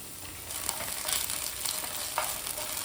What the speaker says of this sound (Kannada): ಇವಾಗ ಇದಕ್ಕೆ 1 ಸ್ಪೂನ್ ಶುಂಠಿ ಬೆಳ್ಳುಳ್ಳಿ ಪೇಸ್ಟನ್ನು ಹಾಕಿ ಇದರ ಹಸಿ ವಾಸನೆ ಹೋಗೋ ತನಕ ಫ್ರೈ ಮಾಡ್ತೀನಿ.